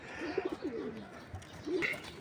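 Pigeons at a loft give soft, low cooing calls, a few short throaty phrases close by and fairly quiet against a light background hum.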